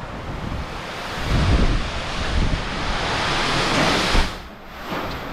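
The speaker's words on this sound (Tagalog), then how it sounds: "Ang lakas ng hangin," Strong wind during Typhoon Kristine roaring past a house, a loud, continuous rushing noise that swells into gusts and briefly eases before surging again.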